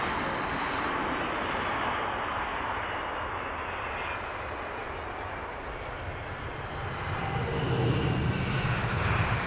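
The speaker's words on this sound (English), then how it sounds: "Some nice deep rumbling reverser action down towards T5" A United Boeing 767 heavy lands at Heathrow with its thrust reversers deployed, giving a steady, deep, broadband roar that holds throughout and swells slightly louder near the end, with no talk over it.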